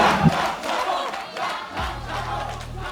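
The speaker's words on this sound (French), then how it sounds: "Vous allez l'applaudir bien fort." Audience at the grand finale of the Flow225 show cheering and applauding, a loud roaring crowd wash with shouts, joined partway through by a low sustained musical tone.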